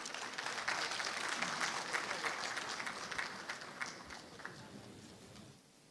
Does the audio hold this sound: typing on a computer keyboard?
no